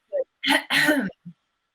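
A voice imitates a man clearing his throat: a short hum, then two rough, raspy bursts and a small grunt, close and isolated.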